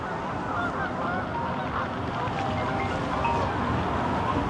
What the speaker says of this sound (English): The flock of geese came at me and they're not stopping.